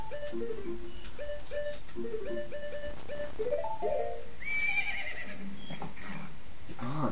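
A horse whinnies in The Legend of Zelda: Majora's Mask, its neighs stepping down in pitch, repeated several times over steady background music and light ticking.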